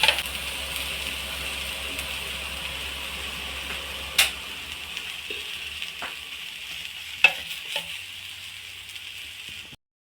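An egg dosa sizzles steadily on a hot pan, a bright continuous hiss broken by a couple of sharp scraping clicks as a spatula flips it, before the sound cuts off at the end.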